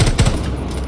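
Rapid automatic gunfire in Rainbow Six Siege, a loud close burst of quick shots packed into under a second.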